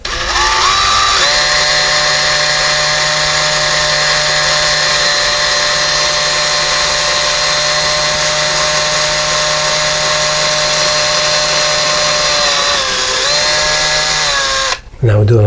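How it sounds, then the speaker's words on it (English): A power drill whines at a steady pitch as it bores slowly into wood during a blind installation, running loud and unbroken before spinning down and stopping at the end. "we're going to drill very slowly"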